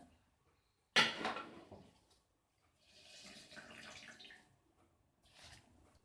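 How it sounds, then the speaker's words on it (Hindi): Rice is tipped into a pot of boiling water in a home kitchen, landing with one sharp pouring rush, followed by quieter bubbling and stirring sounds that come and go, close and fairly soft. "अब इसमें चावल डालेंगे।"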